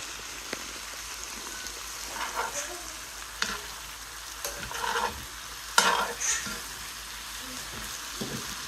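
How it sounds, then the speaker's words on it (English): Mushrooms fry quietly in a pan under a soft, steady sizzle while a utensil stirs them, scraping and clinking in scattered light bursts close by. "I'm giving it a stir."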